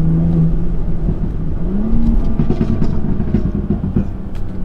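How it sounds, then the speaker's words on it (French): A BMW 340i Performance engine with its exhaust valve opened, in manual mode dropping gears, a loud close rumbling drone that rises in pitch as the engine revs while the car pulls. "on appuie sur deux boutons, l'échappement se libère, on passe en manuel"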